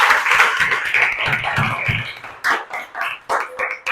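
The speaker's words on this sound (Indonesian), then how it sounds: "Berikan tepuk tangan untuk kelompok 1" A classroom group claps for a few seconds after a student group presentation, the applause thinning into scattered, uneven claps as it fades.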